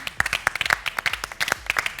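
Studio audience applause breaks out on a television quiz show, heard close and lively as a dense patter of individual hand claps over a brief two seconds.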